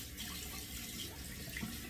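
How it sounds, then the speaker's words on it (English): Tap water running steadily into a sink in a newly remodeled bathroom, a continuous close splashing flow with no talking. "Or if I'm just running water, it tends to back up into a little bit like I'm doing right now."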